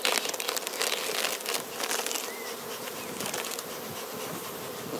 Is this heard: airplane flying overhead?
no